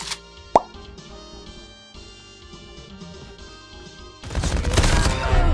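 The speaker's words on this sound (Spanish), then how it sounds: "Escopeta" Gunfire in Call of Duty Mobile battle royale, a sharp blast near the start followed by game noise and a dense burst of rapid shots at the end.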